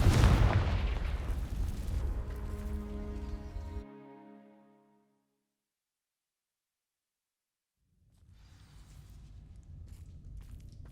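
A Confringo fire spell sets dry vines alight in Hogwarts Legacy, bursting in with a loud, dense whoosh that crackles and rings out over a few seconds, drops to silence, then gives way to a lower rumbling flame.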